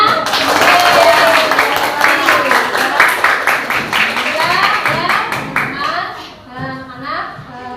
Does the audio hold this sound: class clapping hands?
yes